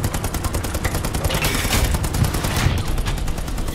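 Heavy gunfire in a video game tank battle with an M4A2 Easy 8 76mm tank against a German advance, a loud, continuous rattle of rapid shots packed close together throughout.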